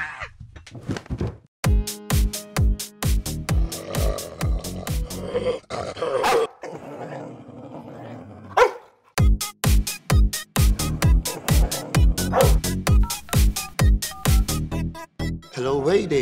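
Small puppies barking in sharp, rapid bursts close by, with yips and a few growls, a brief lull in the middle before the yapping resumes just as busily.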